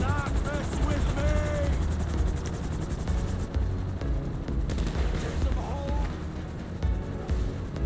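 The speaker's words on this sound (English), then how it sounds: "Oh, they're shooting my fucking helicopter." A helicopter in GTA Online roars overhead during the Cayo Perico Heist while bursts of machine-gun fire crackle around it, loud and continuous, with a voice talking over the din.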